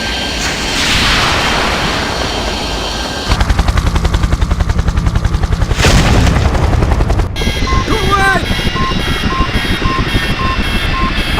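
Missile strike on a helicopter in the Project IGI video game: machine-gun-like rapid bursts give way to a loud explosive boom, then a steady whining helicopter engine hum with beeping tones, all loud and close.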